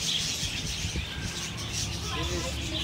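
Parakeet chirping in short, bright tweets over a steady noisy background, fairly close, with a person speaking at times.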